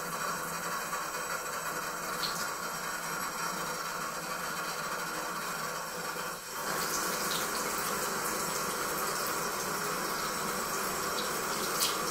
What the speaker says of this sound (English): pop the tap on and have the water running nice and warm